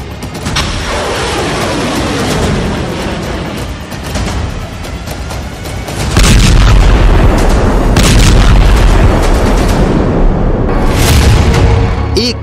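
Loud deep booms and rumbling blasts from Iranian ballistic missile strikes hitting Israel, a continuous roar that swells sharply halfway through, with faint distant voices.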